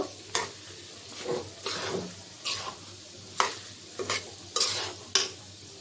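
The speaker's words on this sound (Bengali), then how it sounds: "নাড়াচাড়া দিয়ে দিব ভালো করে মাংসের সাথে চালটা কষাই নিব" Washed rice is stirred with beef in a pot for biryani, with a series of distinct scraping strokes at irregular intervals over a soft sizzle, close and without talk.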